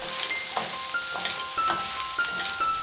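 Tofu stir-fries in a hot pan with spring onion and chili, a steady close sizzle broken by scraping and tossing sounds as it is stirred, with no talking.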